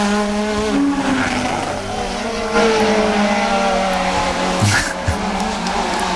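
A rally car on a stage of the Rali Vinho Madeira, its engine note sustained and loud throughout the pass, with a brief squeal of tyres near the end, no talk.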